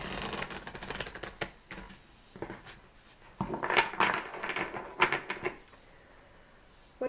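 Tarot cards being handled and picked from a pile, with scattered soft taps, slides and shuffling rustles in irregular bursts, faint and close, with no talking.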